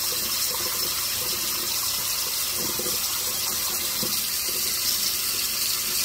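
Hot water running steadily from a kitchen tap, a continuous hissing splash at moderate volume throughout, with no talking.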